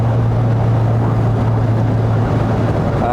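A 1960s Aston Martin DB4 engine cruises in fourth gear with overdrive engaged at about 60 mph and low revs, giving a steady, low, continuous drone with road and wind noise and no talk.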